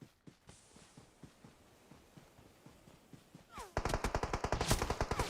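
Gunfire in PUBG Mobile: spaced single shots at first, then a loud, rapid burst of automatic fire near the end, with players chatting.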